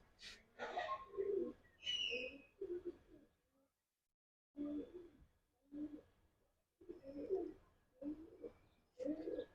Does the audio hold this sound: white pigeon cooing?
yes